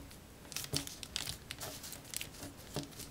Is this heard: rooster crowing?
no